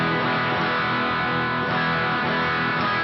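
An electric guitar plays through a Marshall Plexi amp with the gain all the way down and the overdrive pedal off, giving a dense, slightly saturated chordal tone that rings steadily for about three seconds.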